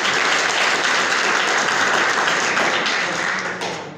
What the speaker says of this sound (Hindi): आसिफ के लिए आप लोग तालियां बजाएं।